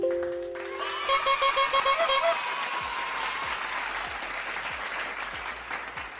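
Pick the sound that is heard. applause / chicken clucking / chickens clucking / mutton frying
applause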